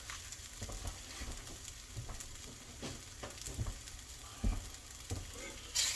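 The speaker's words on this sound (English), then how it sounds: "we're gonna add our butter, 2 tablespoons of butter. We'll let that melt." Two tablespoons of butter melt in a pan for smothered pork chops, a soft continuous sizzle and crackle with scattered stirring scrapes, fairly quiet, no talking.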